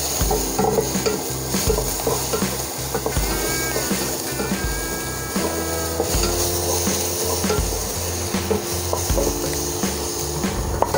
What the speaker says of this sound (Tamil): இஞ்சி பூண்டு விழுது ஆட் பண்ணிவிட்டு ஒரு ரெண்டு நிமிஷம் நல்லா வதக்குங்க